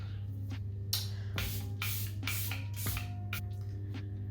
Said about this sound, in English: Spraying my face with the Charlotte Tilbury Airbrush Flawless Setting Spray.